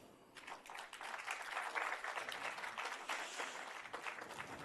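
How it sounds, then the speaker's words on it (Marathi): Audience applause filling a hall at a folk performance event, steady dense clapping that swells and holds for several seconds at moderate distance, with no voices over it. "तुला टाळ्यांचा आवाज ऐकत होता"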